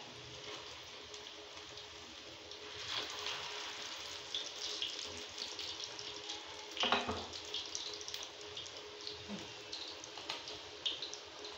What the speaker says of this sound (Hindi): घी हमारा अच्छी तरह से गरम हो चुका है, लेते हैं हम अच्छी तरह से फ्राई।